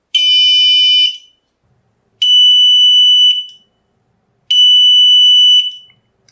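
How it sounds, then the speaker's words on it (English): A loud, shrill electronic buzzer on a smart water leak sensor sounds three times, each tone about a second long with short silent gaps between. "And the buzzer test."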